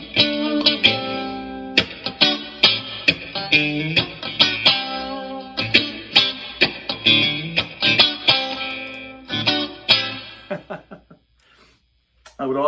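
Sawtooth ES Relic electric guitar played through a Bugera amp, loud strummed and picked chords in a rhythmic run with effects coloring the tone, ringing out and fading near the end.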